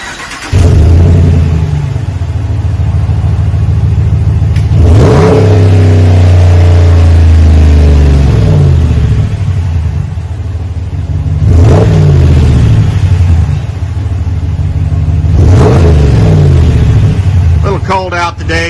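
A 2020 Ram 1500 fitted with a Flowmaster 40 muffler replacing the factory resonators revs repeatedly, with loud, close exhaust rumble rising and falling in several throttle blips over a steady idle.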